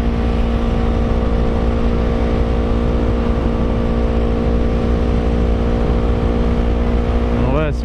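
Yamaha R3 motorbike accelerating through a road corner, a loud steady engine drone with rising revs and a rough buzzing tone, dense wind rush throughout and a brief pitch sweep at the end.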